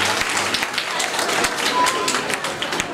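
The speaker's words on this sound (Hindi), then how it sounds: "आप सबकी भरपूर तालियों में आयशा सिद्दीका।" Applause for a student receiving a medal at a school ceremony: a steady, dense burst of crowd clapping, with voices faintly mixed in.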